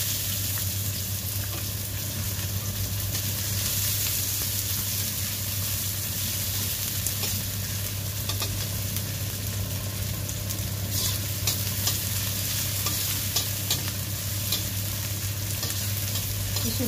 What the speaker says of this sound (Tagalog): Lagyan natin yung sibuyas.